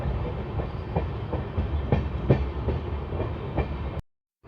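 Rail wheels clatter in a steady rhythmic clickety-clack as trains move at Jalandhar Cantt station, a continuous rumbling roar that cuts off abruptly.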